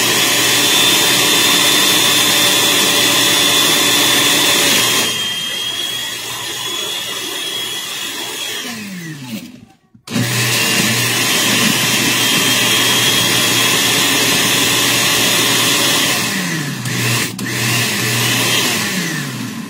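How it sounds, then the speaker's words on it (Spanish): An electric blender grinds salsa for gorditas de chicharrón in a loud, steady whir. It stops briefly near the middle, then starts up again and runs continuously, with no talking. "Y vamos a moler."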